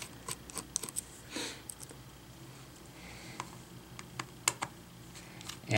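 Small screws being removed from the screen assembly of an Acer Chromebook 13 CB5-311, heard as a run of close, sharp clicks and taps with brief scraping, scattered irregularly through a quiet background.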